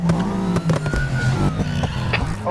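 Car engine revving and roaring during a police pursuit of a BMW M3 in the racing game Need for Speed Heat, loud and continuous with shifting pitch and brief tire noise, no voices.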